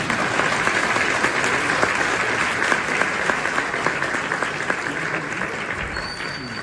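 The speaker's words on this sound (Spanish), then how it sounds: "Aplaudan a mi mamá." A studio audience at a televised interview applauds in a steady, dense wash of clapping that lasts the whole stretch and tapers slightly at the end.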